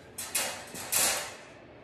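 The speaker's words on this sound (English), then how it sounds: "Open and shut crate doors." Crate doors are opened and shut in a few quick clanks and rattles close by, each a short metallic burst fading out, with no talking.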